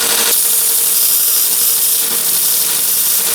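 A VEVOR belt sander grinder switched on and running against the edge of a piece of aluminum, a loud steady whirring grind kicking in after a brief pause and continuing evenly, close up, no voices.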